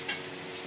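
Eggplant frying in a pan gives a short, even burst of soft, close sizzling with no voices.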